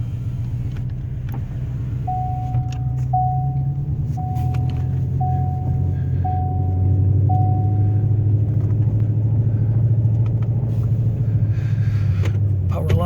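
A 2016 Ford Shelby GT350 drives along a road with a steady, low engine rumble heard from inside, a repeating chime beeps six times, and someone talks over it.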